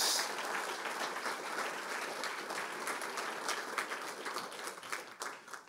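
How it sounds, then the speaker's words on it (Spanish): A church congregation gives a steady, sustained round of applause as an offering to the Lord, with many hands clapping evenly and a little faint voice mixed in. "Denle una ofrenda de palmas al Señor"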